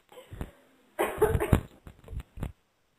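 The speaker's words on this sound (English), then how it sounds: "Hold on, I'm coughing." A woman recovering from bronchitis coughs a few times in quick, close bursts, with brief throat sounds between them.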